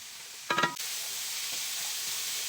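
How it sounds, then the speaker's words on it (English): Vegetables and garlic sauteing in a hot Magnalite pot, a steady broad sizzle throughout with a brief clatter of stirring near the start. "I think my favorite part of cooking is sauteing the veggies and the garlic."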